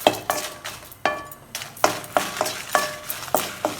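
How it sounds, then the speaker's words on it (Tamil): A utensil stirs and scrapes dried red chillies roasting in a pan with dal for pirandai podi. Regular metallic clinks and scrapes repeat about every half second, close and fairly loud, over a faint sizzle. "அதையும் போட்டு நல்லா வறுத்துக்கலாம்."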